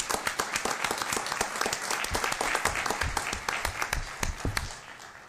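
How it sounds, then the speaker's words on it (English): An audience at a Las Vegas city council meeting gives a round of applause, a dense, continuous patter of many hands that holds steady and then tapers off near the end. "give both Bradford and Brad Jerbeck a round of applause for the great accomplishments they've done for the city of Las Vegas"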